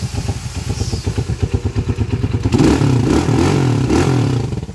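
A Microbike EXT 125 motorcycle with a 200cc engine conversion runs close by, a loud rough idle with rapid firing pulses that swells into a brief rev midway and then keeps running.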